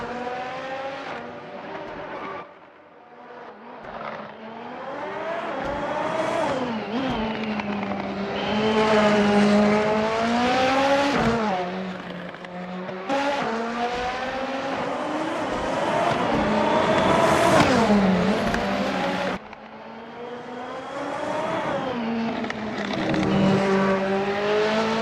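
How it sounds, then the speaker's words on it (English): Race cars in a Formula Hololive qualifying session at SUGO in a racing video game drone continuously, engines rising and falling through gear changes as they lap the track, loud and steady with no talk over them. "We got the first car out already on track."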